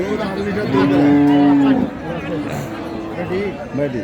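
A Sahiwal cow lows at a busy cattle market in Dinajpur, one long loud moo close by, with crowd chatter and voices running underneath.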